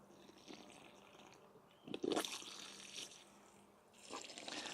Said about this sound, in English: Now the idea is you fill the hole to the top with water